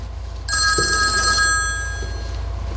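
A telephone bell rings indoors in a comedy sketch, a single bright trilling burst lasting about a second over a low steady hum, then fading.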